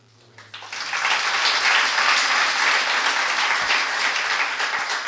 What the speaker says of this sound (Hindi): ये ताली क्यों है इन लोगों ने?